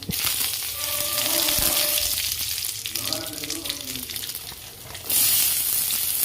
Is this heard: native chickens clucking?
no